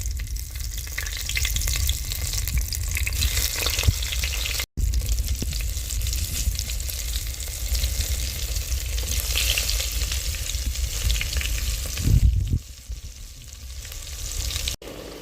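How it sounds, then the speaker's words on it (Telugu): Whole stuffed brinjals frying in hot oil, a dense, continuous sizzle running close and steady throughout, with a short break and a few clattering stirs toward the end, no one talking. "మనం గుత్తి వంకాయలు ఫ్రై చేసుకుందాం"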